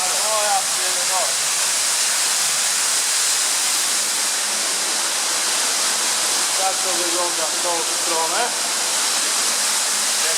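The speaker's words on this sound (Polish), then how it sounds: "Woda leje się po wszystkim." An underground waterfall in the Riese complex at Ludwikowice Kłodzkie roars loudly and continuously close by as water pours down, while someone talks over it.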